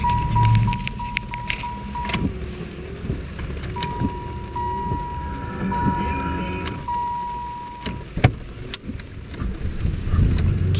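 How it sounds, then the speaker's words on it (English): Car keys jangle and clink near a car while its engine is restarted on a rainy day, with a steady chime and brief clunks, and a person talks intermittently. "I'm actually going to pull over here and just restart my car"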